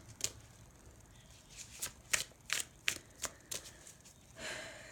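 A deck of tarot cards is shuffled close by, giving a run of quick papery riffles and flicks in a loose rhythm that ends with a brief soft sliding rustle.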